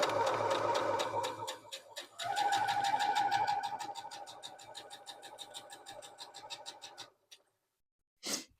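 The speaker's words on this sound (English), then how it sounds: "So we're just sewing corner to corner." Quilt pieces are stitched corner to corner on a sewing machine, its rapid steady needle clatter running close and clear for about seven seconds, easing in speed near the end before stopping, then a brief click.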